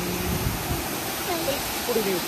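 A steady, loud rush of water spills over the old Terna dam on the Terna river at Dhoki, Dharashiv, continuous and close, with faint voices briefly surfacing above the roar.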